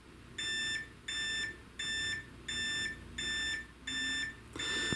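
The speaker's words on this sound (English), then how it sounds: "I just want you to hear what the alarm is like." A FlexiSpot standing desk's reminder alarm sounds six evenly spaced electronic beeps, each about half a second long with short gaps, moderately loud in a quiet room.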